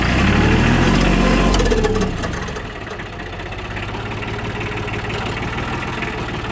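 A Ford 1320 tractor engine runs loud and close, starting with a heavy throttled roar that drops after two seconds to a steady, lower idle-like drone while it works on a dirt bike track.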